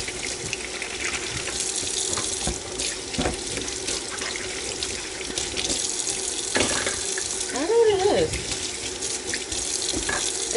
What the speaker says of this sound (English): I tell you, I love washing bottles.